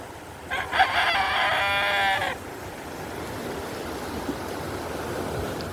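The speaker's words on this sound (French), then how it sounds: "Un coq chante" A rooster crows once, a loud drawn-out call, then fades into a quiet outdoor ambience of soft rustling.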